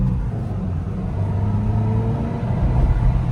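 A Honda HR-V engine rumbles in the cabin as the small car pulls hard through its gears, a deep steady drone rising in pitch, close and fairly loud with no talking.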